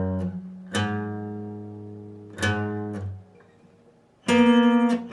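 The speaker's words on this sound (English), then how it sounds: "Part 3 played all together in slow." Guitar playing part 3 of the verse slowly, three separate strummed chords spaced well apart, each ringing out and decaying, the last the loudest, close and with no talking.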